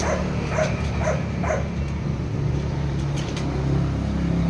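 Several short yips and barks from dogs sound at a middle distance over a constant rumbling background, then a few sharper yelps near the end.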